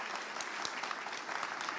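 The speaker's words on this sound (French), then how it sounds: "vous pouvez applaudir" An audience applauds after a talk at a public event, a dense, steady clatter of many hands clapping close by, with no pauses through the short stretch.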